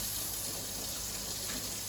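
Cold water gushing steadily from a tap into a sink with sterilising tablets, a loud, unbroken hiss of running water heard up close with no talking.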